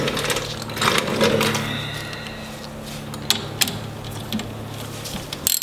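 A ratchet with a 5/16 socket tightening a nut on a RZR XP 1000 steering kit: steady, close mechanical clicking with a low motor-like hum underneath and a few louder clacks near the end.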